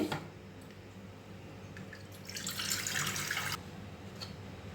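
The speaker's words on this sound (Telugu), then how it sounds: "ఇప్పుడు మనం కడిగి పెట్టుకున్నాం కదా మంచినీళ్ళతో కడుక్కుందామండి" Curry ingredients are rinsed in a kitchen under running tap water, with faint drips and handling, then a short, louder gush of flowing water that lasts about a second before it eases off.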